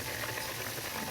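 Chicken chopsuey broth with vegetables, cabbage and liver boils in a pot, giving a continuous close bubbling rumble with no talk over it.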